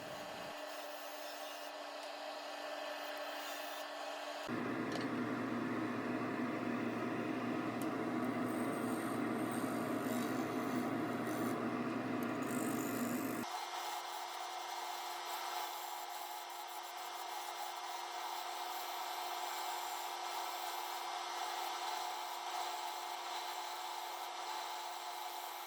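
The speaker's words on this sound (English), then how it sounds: "Now back to the bowl gouge to remove the bulk of the material that's going to come" A bowl gouge cuts a maple bowl spinning on a wood lathe, giving a continuous loud rushing hiss that rises sharply in the middle stretch and then eases back to a steadier whirring hum.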